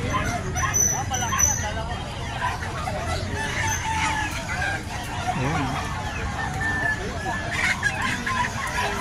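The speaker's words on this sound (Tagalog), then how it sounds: "May mga manok." Chickens at the Bocaue pet market clucking and crowing amid other animals, several birds heard among a busy crowd hubbub, with people talking nearby throughout.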